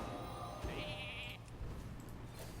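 A single faint, short sheep bleat from the Hearthstone game plays after a Polymorph, sounding over a low background of game ambience.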